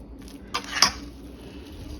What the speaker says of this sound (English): Take a fork or something and mix the cheese in with the potatoes